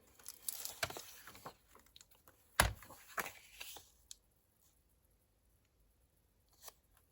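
Scissors snip through paper from an altered book being cut down for a junk journal, a few close crisp cuts and rustles in the first four seconds, one sharp loud snip near the middle, then near quiet with a faint rustle at the end.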